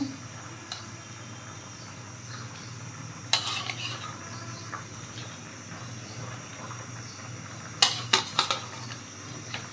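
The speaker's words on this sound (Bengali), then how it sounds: "তো এই যে দিয়ে দিচ্ছি ভাজা মাছগুলো।" Fried koi fish dropped into a pot of eggplant and potato curry: a quiet background sizzle broken by two bursts of clattering utensil and pot sounds, with no voices.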